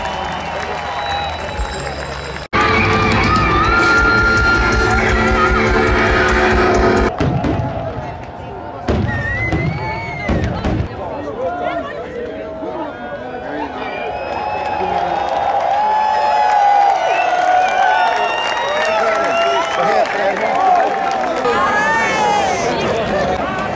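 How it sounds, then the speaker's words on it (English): A festival crowd at Sweden Rock Festival 2023 erupts in loud, sustained applause and cheering with scattered whistles and shouts, building after an earlier stretch of dense noise and spreading wide across the open-air audience. "So please give a big round of applause for everyone working here at the festival."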